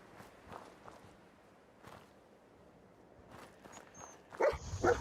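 Dogmeat, the dog companion in Fallout 4, barks loudly near the end after a stretch of faint footsteps and quiet movement.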